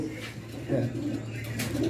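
Danish pigeons with jet-black and bright red plumage, offered at a wholesale pigeon farm, coo softly in repeated low murmurs, close by, while a voice talks over them.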